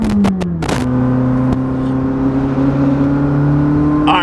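A McLaren 600LT, the track version of the 570, revs loudly up close with a rising whir, then settles into a steady drone with shifting engine tones and a brief flare of revs at the end.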